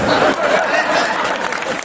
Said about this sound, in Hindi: इसमें सभी ने तालियां लगाई।